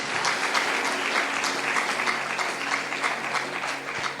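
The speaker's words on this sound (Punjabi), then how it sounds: "ਤਾਲੀ ਮਾਰੀਏ ਜ਼ੋਰ ਦੇ ਨਾਲ" A congregation at a sermon clapping loudly in a fast, steady rhythm that runs unbroken throughout, dense and close with no voices over it.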